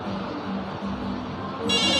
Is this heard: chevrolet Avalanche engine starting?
no